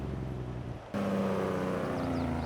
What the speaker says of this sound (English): Oh, Jake brakes on.